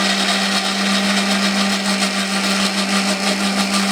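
A kitchen mixer grinder whirs loudly and steadily, blending ginger, garlic, onion, chili and tomato with a little water into a fine spice paste for Bengali aloo dum; the motor holds a constant hum throughout.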